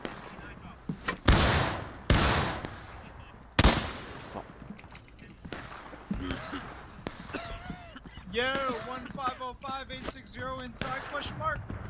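Video game gunfire in a Pavlov's House match, several loud, sharp single shots early on followed by scattered quieter bangs, with people talking over the shooting.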